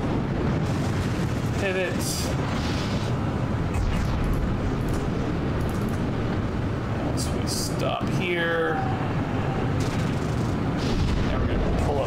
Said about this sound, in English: Things are exploding, but we're not taking hardly any damage.